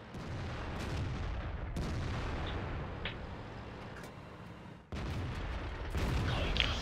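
Heavy tank cannon shots in World of Tanks boom out a few times over a constant low battle rumble, sharp and close, with seconds of gap between blasts.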